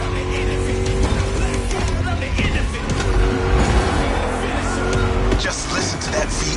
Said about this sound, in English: Just listen to that V8, like a chunky, down-tuned guitar riff